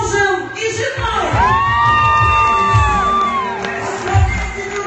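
Wedding guests cheer for the newlyweds in a loud, close crowd roar, with whoops and a long rising-and-falling shout riding over the noise and a voice calling out near the end.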